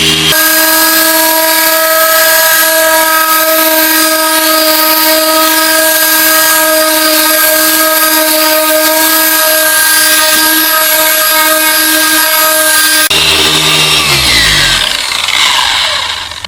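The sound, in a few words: car polisher with foam pad applying polish to car paint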